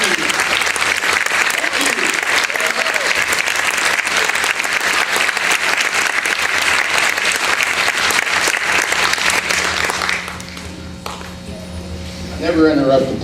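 Audience applause after a symphonic band concert, a dense sustained clapping from a crowd that fades out near the end as a voice begins speaking.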